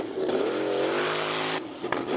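A car engine revs hard through rising gears during an off-road motorsport run, loud and close, then drops off briefly before picking up again.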